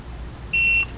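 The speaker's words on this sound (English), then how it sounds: "It'll beep." A single steady electronic beep from an RV tire pressure monitoring system, fairly loud, lasting about a third of a second over faint background hiss.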